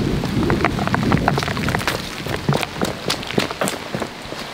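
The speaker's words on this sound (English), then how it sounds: "Oh, I hate the rain," Rain falling in Florida with scattered sharper drips and taps over a constant wash, close by and uneven, without any talking.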